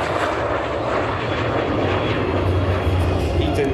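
The engine of a Lim-2 jet fighter flying low with landing gear down at an airshow in Leszno gives a loud, continuous broadband roar and rumble, heard without talk.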